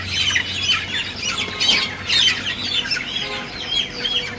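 A chicken squawks and clucks in sharp, repeated bursts while its beak is burned, loud and close, with a few shrill cries and some flapping.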